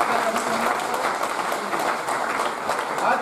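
An audience at a public government event in India applauds to welcome a guest, with dense, continuous clapping filling the space at steady strength for several seconds.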